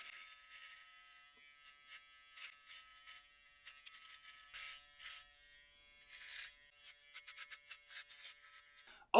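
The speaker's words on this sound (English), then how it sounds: "I just like to do one pass with that trimmer just to trim things down a little bit" Mbzoey mini shaver trimmer buzzing in short, uneven bursts as it makes a single pass over a beard, fairly quiet and close, with no one speaking.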